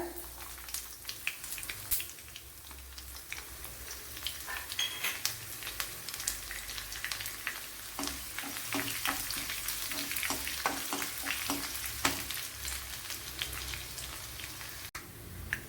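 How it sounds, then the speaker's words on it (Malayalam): Two chopped small onions (shallots) frying in hot oil with popped mustard seeds for an anchovy and pumpkin curry, giving a steady, close crackling sizzle with scattered sharper pops throughout. "രണ്ട് കൊച്ചുള്ളി അരിഞ്ഞിട്ട് കൊടുക്കുക"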